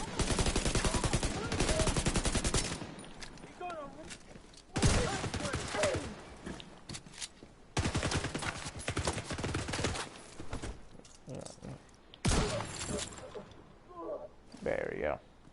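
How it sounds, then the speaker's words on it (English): Weapon gunfire in the Division 2 video game rattles out in four loud rapid-fire bursts of a few seconds each, separated by brief quieter pauses. "start out with a low weapon like this"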